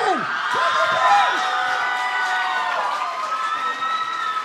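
A lively crowd at a youth event cheers, whoops and shouts continuously, close and loud, with excited voices rising over a steady wash of noise and some clapping.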